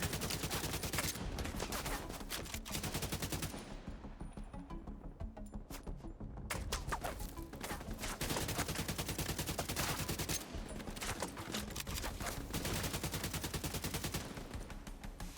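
Rapid gunfire from an enemy shooter in the video game The Division 2 rattles on almost without a break: dense automatic bursts and sharp shots, loud and close, with only a short thinning partway through.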